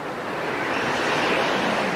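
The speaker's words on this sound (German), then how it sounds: "wurde der Wind immer stärker." Strong wind blows in a steady, rushing roar that swells slightly toward the end, with no voices or other sounds over it.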